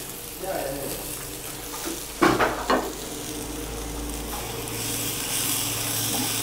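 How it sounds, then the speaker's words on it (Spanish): Chinese onion sizzles as it browns in a pan for a vegetarian patasca stew, a steady close frying hiss with a couple of brief stirring clatters partway through. "Vamos a agregarle aquí entonces nuestra cebollita china. Ya, a dorar un ratito."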